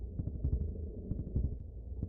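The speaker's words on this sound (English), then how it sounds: "You can hear that heartbeat." Low, muffled heartbeat of Lavos in the SNES game Chrono Trigger, throbbing in a slow, steady double-thump rhythm beneath a dark hum, with no other sound over it.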